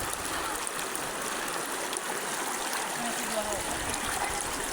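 Stream water flowing steadily over piled rocks at an outdoor bathing spot, a continuous broadband rush with no breaks, moderately close.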